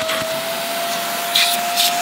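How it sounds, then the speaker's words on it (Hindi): A vacuum cleaner used to vacuum-seal a person inside polyethylene plastic runs with a steady loud whine and airy roar, with brief crinkling bursts near the end. "इस वैक्यूम क्लीनर की मदद से हम आज खुद को वैक्यूम सील करेंगे"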